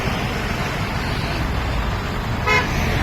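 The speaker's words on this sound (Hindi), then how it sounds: "देख सकते हैं बहुत बिजी रोड है ये" Busy road traffic on the PVNR flyover, a steady dense rumble of engines close by with a single short horn toot near the end.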